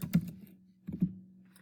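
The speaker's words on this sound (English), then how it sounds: "So that I can keep typing." Two short bursts of typing on a computer keyboard, a quick cluster of clicks, then a pause and another cluster, close and fairly quiet.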